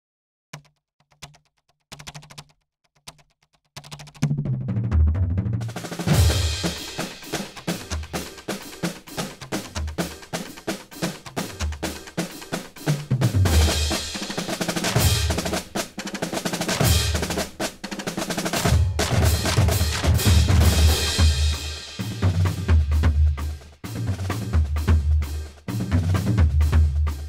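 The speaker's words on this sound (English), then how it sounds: "I have Kontakt loaded up here, and I recorded a little drum cadence here." A high school drum corps cadence is played from sampled drum patches, opening with a few sparse taps and then moving into a dense, loud rhythmic pattern of snare and bass drum hits that continues steadily throughout.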